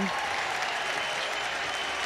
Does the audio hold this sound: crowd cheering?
yes